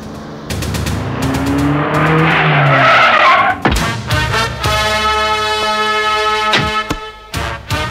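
A car skids to a stop in a Bollywood action movie scene, a loud, sustained tire squeal with engine roar, followed by sharp impacts and ringing metallic hits, with no one talking.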